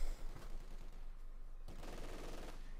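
An MG42 machine gun fired by German forces in Company of Heroes 2, heard as a faint, rapid, continuous rattle of automatic fire spread across a distant battlefield soundscape.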